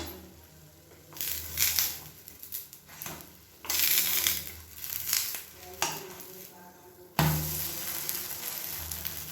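A flipped batter tea-time snack frying in a little oil in a pan, heard as a continuous close sizzle that swells and eases in bursts, with occasional utensil clinks and scrapes and no talking.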